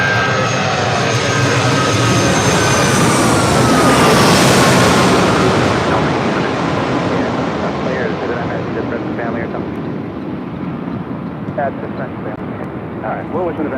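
A United Airlines jet at LAX roars loudly and close, peaking early as it passes, then fades to a lower rumble as voices talk over the tail end.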